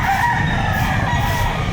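A rooster crows once, loud and close, at a weekend chicken market behind SM City Lipa in Batangas, over a murmuring background.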